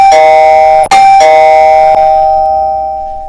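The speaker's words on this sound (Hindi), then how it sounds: "तभी दरवाजे की घंटी बजने लगी।" A doorbell chimes loudly and clearly in two rings, each tone ringing out with a long decaying sustain, with no voices present.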